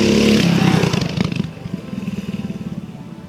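A Predator 212cc mini bike engine roars loudly at first, then drops to a lower, steadily pulsing putter as the sound fades, close by with no talk.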